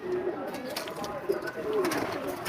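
Domestic pigeons coo in soft, low, rolling calls that repeat through the stretch, close by, while a person talks alongside them.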